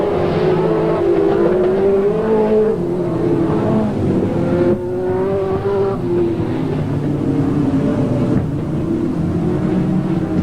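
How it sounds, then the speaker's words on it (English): Grand National Sedans race cars roar steadily past at high revs on the track, engines rising and falling in pitch as they work through gears, loud and continuous. "Ski Woods is last of all and half a lap down in the 72 car"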